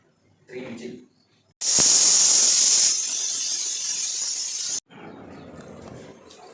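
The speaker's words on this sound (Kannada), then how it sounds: "3 ವಿಜಿಲ್ ಕೂಗಿಸ್ಕೋಬೇಕು." A kitchen pressure cooker with tomato and soya chunk rice inside lets out a sudden, loud, sharp steam hiss that holds for about three seconds and then cuts off, preceded by a brief voice and followed by quieter room noise.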